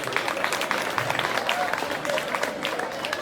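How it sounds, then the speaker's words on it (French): Audience applause at a school quiz competition final and awards ceremony, a steady dense wash of clapping with crowd noise and some voices and whistles mixed in throughout. "je demande à tout le monde de les applaudir"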